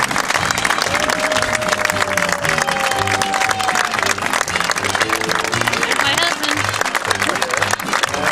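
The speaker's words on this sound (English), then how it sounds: "Please join me in giving our honorary cast members a big round of applause" A crowd at a theme-park attraction opening applauds honorary cast members with sustained, dense clapping, backed by music and some voices.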